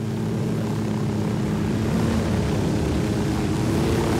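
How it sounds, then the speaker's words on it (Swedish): A helicopter landing in a video game, heard as a steady, loud, dense rotor and engine drone that fills the whole stretch without a break or any talking. "Jag landar med helikoptern här och agerar prickskyttestöd igen."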